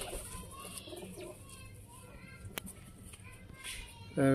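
Teddy pigeons, a female pair of the Sialkoti breed, coo softly and faintly through low background noise, with occasional brief chirps and a louder bump at the end.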